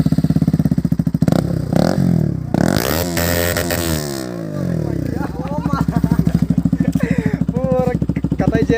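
A motorcycle with its exhaust baffle (dB killer) removed revs hard and crackles, loud rising and falling bursts close by, with voices talking over it during a group ride.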